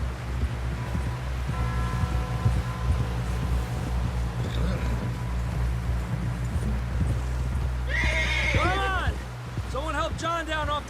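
A horse clip-clops along at a steady walking rhythm in Red Dead Redemption 2, hoofbeats close under a low continuous drone, with people talking over it and a brief tonal whinny-like call near the end.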